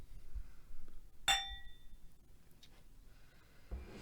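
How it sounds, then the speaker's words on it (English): Glasses clink once in a toast, a bright ringing tone that decays over about half a second, among quiet room noise and a few faint taps. "So raise your glass. And cheers to Jesus."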